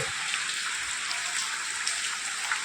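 Heavy rain falling at a new house, a steady dense hiss of downpour with scattered drip patter, moderately quiet and unbroken.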